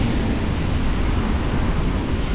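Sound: big sea waves breaking on the shore

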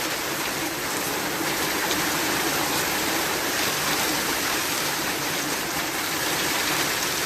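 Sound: heavy rain downpour

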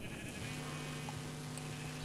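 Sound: sheep bleating in Minecraft video game

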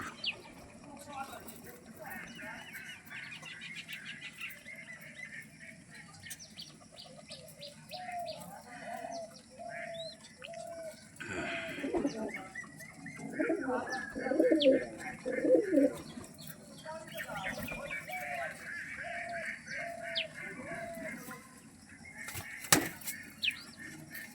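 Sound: pigeons cooing

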